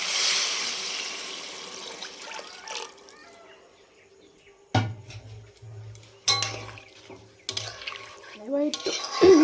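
Water goes into a pot of potato and spice curry with a brief hissing rush, followed by sparse metallic clinks and knocks of the pot and utensils at close range.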